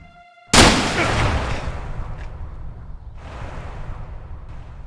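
A single sniper rifle shot in a wartime audio drama, one loud sharp crack that rolls into a long, booming echo and fades over several seconds, with a faint second rumble later.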